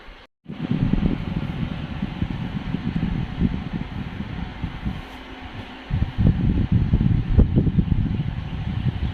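Strong outdoor wind buffets the microphone in a steady, rumbling low roar with gusty surges throughout, briefly easing midway before building again; dust is stated to be blowing about in it.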